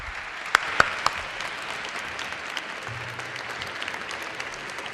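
An audience at a 2014 national transparency week panel in Mexico applauds the panel speakers with steady, moderately distant clapping and a few sharper claps near the start. The applause continues for the whole stretch.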